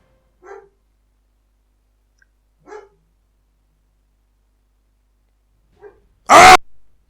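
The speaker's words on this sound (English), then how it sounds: "There goes my dog again." A dog barks from somewhere nearby: three short, faint woofs spaced a couple of seconds apart, then one loud, full bark at the end, with silence between.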